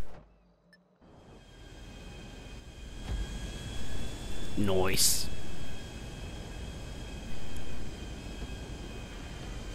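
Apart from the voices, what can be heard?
jet aircraft engine in video game GTA Online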